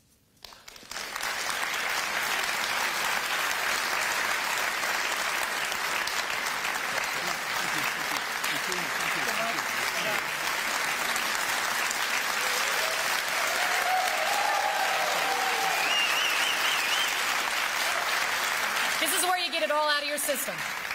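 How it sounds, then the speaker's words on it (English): An audience at a congressional debate applauds, and the clapping stays dense and sustained for about twenty seconds. A few voices come through near the end. "ask again that from here on out that you hold your applause until the end of the debate"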